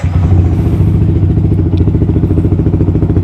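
A Yamaha R15 V3 motorcycle fitted with a Daytona Evolution exhaust runs loud and close, its steady low engine rumble pulsing rhythmically with a slight clattering texture throughout.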